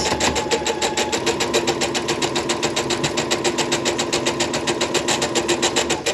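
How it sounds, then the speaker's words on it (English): Sewing machine stitching quilt block pieces together, a fast steady rhythmic needle clatter running continuously at close range with no talk. "Then I'm sewing past, taking my next piece, making sure I'm happy that it's all lined up."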